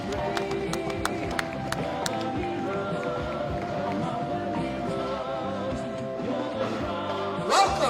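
Crowd applause and scattered cheering from spectators lining a Vietnam Veterans Parade in Waikiki, Hawaii, a steady dense wash of clapping that lasts throughout, with a brief louder swell near the end.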